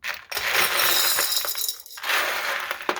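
Small beads pour and rattle into a jar in two bursts of dense clicking and clinking, close and fairly loud, with a short pause between.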